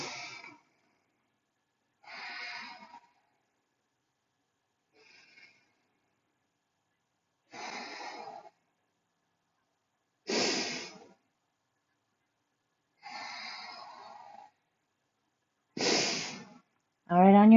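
Slow, deliberate breaths during a yoga session, a series of about eight separate airy inhales and exhales spaced a couple of seconds apart, close and clear, with a voice starting at the very end.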